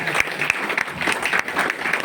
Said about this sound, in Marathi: सर्वांसाठी जोरदार टाळ्या